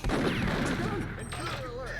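Dense gunfire in the Perfect Dark video game, a continuous loud fusillade of overlapping shots and whizzing effects with game sounds layered throughout.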